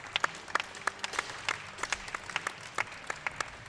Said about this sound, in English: Getting a lot of support from the crowd.